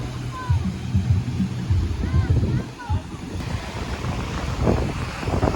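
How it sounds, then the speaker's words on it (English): Ocean waves roll in on Barrio Barretto beach on a windy day, surf rumbling with heavy wind buffeting the microphone throughout, while faint background sounds drift in. "Got some waves coming in here today, huh?"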